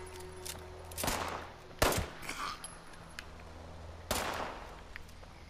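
Scattered gunshots in the video game Fallout 76 on PS4, a handful of sharp single reports spaced a second or two apart over a quiet, humming backdrop.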